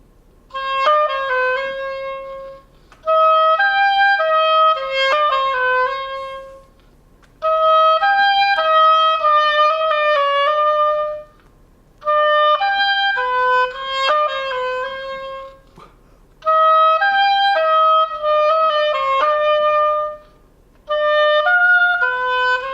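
Solo oboe playing an etude in repeated bars of slurred sixteenth notes with tenuto accents, clear and close, phrased in six bursts separated by short breaths.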